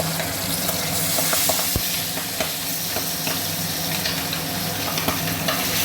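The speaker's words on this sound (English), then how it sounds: "Then let's fry the fish now." Pabda fish frying in a pan, a steady close sizzle and crackle running throughout with occasional sharp pops and clinks, no voices.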